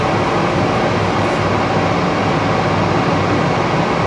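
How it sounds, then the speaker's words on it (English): Steady, loud rumble of the DFW Airport Skylink people mover train departing, a broad continuous roar with no voices, heard from inside the carriage. "Please hold on. This train is departing."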